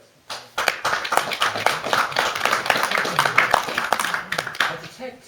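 An audience at a TTIP hustings in Oban, 2015, breaks into sustained applause, dense rapid clapping from many hands close by that holds steady for several seconds.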